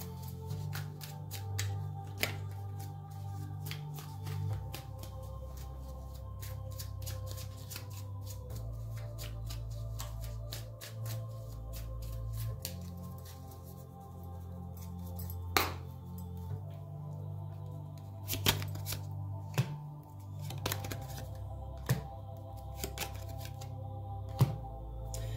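Tarot cards being shuffled and dealt during a reading, a steady papery riffle of close card handling with sharper snaps and slaps as cards are laid down later on, alone over a low steady hum.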